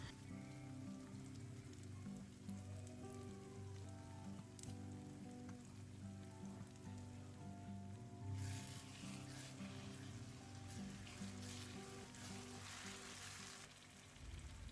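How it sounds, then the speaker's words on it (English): Tomatoes frying for a Nigerian chicken stew hiss and sizzle steadily in a pan, a dense, rain-like crackle that swells louder midway, with faint tonal hum underneath. "You have to fry it for a very long time"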